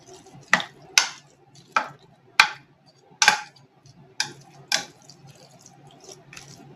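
Curd rice being mixed with a spoon after coriander leaves and pomegranate seeds are added, giving about eight soft, wet, squelching stirs in a loose rhythm, close and alone.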